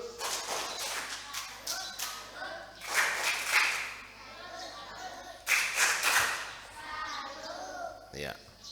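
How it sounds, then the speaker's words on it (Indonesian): Children in a Catholic Sunday school group perform the tepuk salut clapping routine, bursts of group hand claps in rhythmic patterns mixed with chanting voices, rising and falling across the room. "Anak-anak sekami, tepuk salut."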